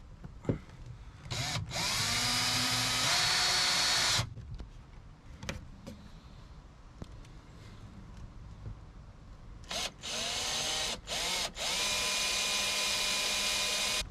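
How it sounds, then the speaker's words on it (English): A power drill drives screws into a 20 ft Aquasport fishing boat floor in two long whirring bursts, separated by short clicks and handling knocks, close and fairly loud. "get these things screwed down"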